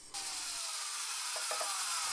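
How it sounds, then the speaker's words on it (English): A steady, high-pitched whine of a bandsaw cutting wood runs throughout, with faint scraping accents partway through and no voices. "I'm cutting using a bandsaw."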